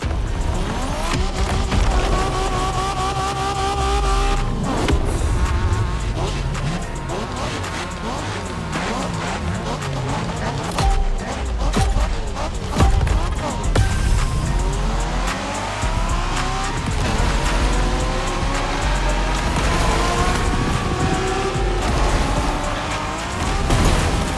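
Cars race in The Crew Motorfest, a video game, on a Japanese street-racing playlist: loud, continuous engine roar with rising and falling revs, gear shifts and repeated tire squeals as the car drifts through corners.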